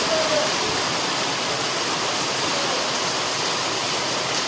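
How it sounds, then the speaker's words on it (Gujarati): Heavy rain pours steadily during a windy storm, a dense, loud broadband rush that stays constant from start to finish with no talk over it. "આજ તો વાયરો હે ને જોરદાર વરસાદ આવે રે."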